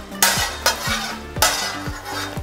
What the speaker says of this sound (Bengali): 1টা তেজপাতা, 1টা বড় এলাচ, 4টে ছোট এলাচ আর 4-5টা লবঙ্গ দিয়ে ভালো করে একটু ভেজে নিতে হবে।